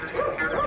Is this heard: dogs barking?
yes